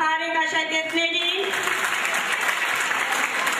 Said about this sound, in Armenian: ծափահարեք աշակերտներին